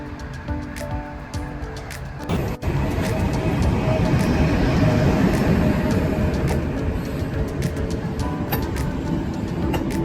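Inside a fast-moving Tashkent–Bukhara passenger train in Uzbekistan, a dense, steady low rumble of wheels and carriage noise swells after a brief quieter start and then holds loud and continuous.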